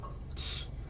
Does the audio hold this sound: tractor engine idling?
no